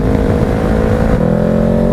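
A 2020 Honda CBR500R motorcycle engine braking on the road, a loud steady engine drone whose pitch steps down partway through as the bike slows.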